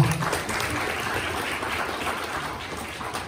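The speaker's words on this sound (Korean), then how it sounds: "수고해 주신 김성준 박사님께 다시 한번 큰 박수 보내주시기 바랍니다." Symposium audience at an infectious disease research event applauding a speaker: a sustained, moderately loud patter of many hands clapping evenly for several seconds, with little talk.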